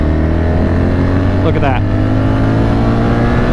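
A car pulls hard at full throttle in fifth gear, its engine producing a loud, steady droning hum with road and wind noise throughout, while a voice briefly speaks partway through.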